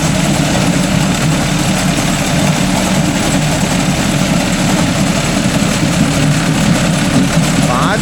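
A Mahindra Arjun Novo 605 DI tractor engine runs steadily while driving a crop cutter during a harvest, giving a continuous loud low drone with a broad mechanical rumble and no breaks.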